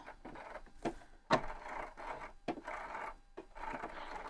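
A sewing machine stitching a flat collar, moving slowly forward a few stitches and then reversing, heard as short bursts of soft mechanical whirring and rubbing separated by brief pauses, close and quiet with no talking.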